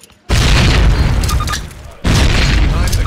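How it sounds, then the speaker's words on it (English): Two frag grenades explode in a Call of Duty D-Day training level, each a loud, deep, booming blast that decays roughly over a second or more, the second following about two seconds after the first. "Throw a grenade into each of the openings before you."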